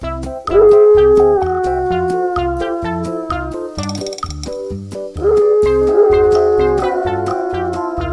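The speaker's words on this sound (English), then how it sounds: "Wolf." A wolf howls loudly in two long sustained tonal calls that slide downward, each rising sharply at the start, heard up close over a rhythmic music backing.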